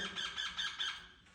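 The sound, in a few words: parrots squawking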